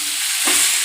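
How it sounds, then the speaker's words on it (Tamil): Four tomatoes sauté for egg gravy in a hot pan, giving a brief, close, bright sizzle with a soft stirring scrape midway. "தக்காளியும் நல்லா வதங்கணும்"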